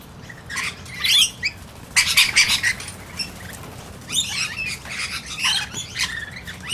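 A flock of rainbow lorikeets at a bird sanctuary, with bursts of shrill squawks and chattering calls in uneven clusters, close and loud, separated by short quieter gaps with faint background noise.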